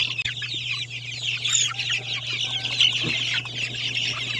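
Native chicken chicks, Zampen birds about 47 days old, peeping and chirping steadily during weighing, a continuous close cluster of high cheeps over a low steady hum, with no talk.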